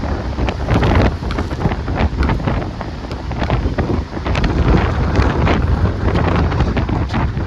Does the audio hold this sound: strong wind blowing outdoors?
yes